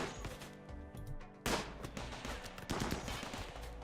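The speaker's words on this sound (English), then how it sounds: "Quickly, get out of the way of the turrets before you get shot." Rapid turret gunfire in RimWorld, a colony-building video game, rattles in dense repeated bursts, with a sharp louder volley midway and sustained shooting continuing to the end.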